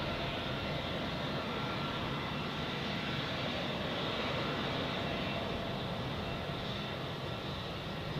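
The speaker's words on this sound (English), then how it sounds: "let's take a look at this Asian Airlines A320" An Asiana Airlines A320 airliner at Zurich Airport gives off a continuous, steady jet engine roar at moderate distance, unbroken throughout.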